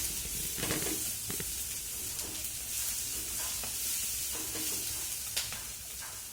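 Dry spices stirred into a hot cooking pan, with steady sizzling and frying hiss under intermittent scraping stirs, close and continuous, no voices.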